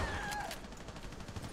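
Rapid gunfire rings out in the Rainbow Six shooter game, a dense burst of repeated shots filling the whole moment at steady loudness.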